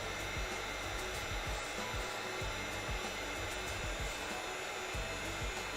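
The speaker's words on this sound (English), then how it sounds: "Most of the time when you use a heat gun," A heat gun blows continuously as it heat-treats EVA foam for a cosplay piece, making a steady, whooshing hum with faint low thumps underneath.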